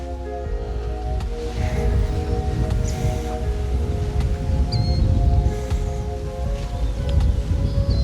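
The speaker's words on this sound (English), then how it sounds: "nice little wind picking up." Wind sweeps across an island golf course in the Pacific Northwest, buffeting the microphone with a continuous low rumble and a rustling hush, with no one speaking.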